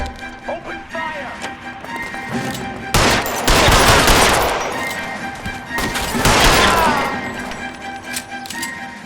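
Bursts of gunfire in the L.A. Noire video game, two loud sustained volleys with rapid shots and crashes, separated by quieter stretches with faint background sounds.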